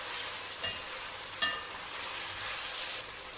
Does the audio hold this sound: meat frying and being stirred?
yes